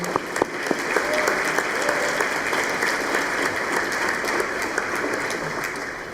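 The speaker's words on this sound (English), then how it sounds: "Can we just give her a round of applause real quick?" A crowd claps steadily and loudly throughout, dense applause filling the space without a break.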